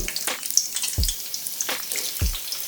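Chopped onion fries in oil in a pan for a papaya stew, with a soft steady sizzle broken by a few sharp clinks and scrapes of a utensil, recorded close with no talking.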